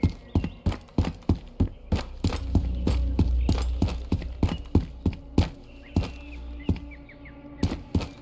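Steady, evenly spaced thudding footsteps in the video game Road to Vostok, loud and close, walking through an apartment block at night.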